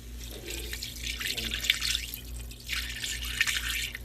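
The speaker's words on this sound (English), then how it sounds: "Now we're going to go in with a cup of stock." Cup of stock poured into a flour-and-milk roux in a pan, a gentle splashing trickle in two soft bursts with faint drips, quiet and close.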